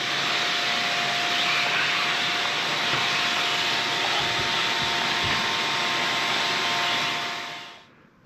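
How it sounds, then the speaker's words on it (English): A vacuum cleaner runs inside an old Caterpillar engine that has sat for nearly fifty years. It gives a loud, steady whine with rubbing scrapes, then winds down and fades at the end. "I'm going to vacuum up anything loose,"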